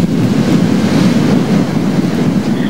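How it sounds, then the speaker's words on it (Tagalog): Strong typhoon Yolanda winds batter the microphone beside a rough sea in Masbate, a loud continuous roar of gusting wind and surf with no pauses. "ramdam sa Masbate ang pagbayo ng malalakas na hanging dulot ng bagyong Yolanda"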